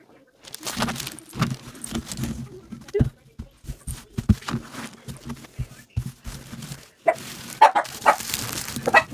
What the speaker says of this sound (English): What are we barking at, guys?